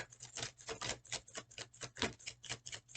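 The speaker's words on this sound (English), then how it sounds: "And this is how I shuffle all the cards for these readings." A deck of oracle cards is shuffled close by, giving a steady run of quick papery riffles and flutters in rapid bursts with no talk.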